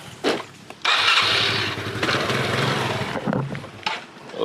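A motorcycle with a faulty headlight and a suspect regulator is started: short cranking bursts, then the engine catches and runs unevenly at close range before cutting out, followed by a few more cranking attempts.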